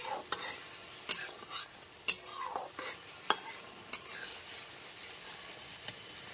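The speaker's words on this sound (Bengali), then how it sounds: "সমস্ত গুঁড়ো মশলাটা এবার ঝিঙের সাথে খুব ভালো মতো কষিয়ে নিচ্ছি।" Ridge gourd being sautéed with ground spices in a pan over a medium flame, with a spatula scraping and tapping at a steady, repeated pace over a soft sizzle.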